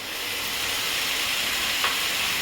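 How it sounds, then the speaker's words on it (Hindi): Ginger and garlic fry in a pan with a steady, close hiss and sizzle throughout, with a brief splash-like burst near the end as ground tomato goes in. "टमाटर जो पीस के रखी हूँ उसे डालूंगी"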